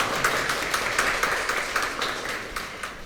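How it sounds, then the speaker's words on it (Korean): An audience gives a short round of applause for the Market Kurly CEO at a startup festival, with steady, moderately close clapping. "박수 한번 드릴까요?"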